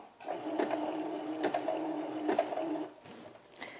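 A domestic sewing machine runs a zigzag stitch in a steady, rapid mechanical whir with faint rhythmic ticks, close and continuous for about three seconds before slowing, with no talk.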